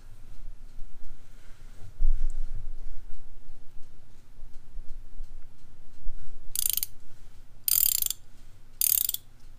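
Pittsburgh Pro ratcheting wrench clicking in three short, loud, close bursts near the end, following several seconds of quiet low rumble and faint handling.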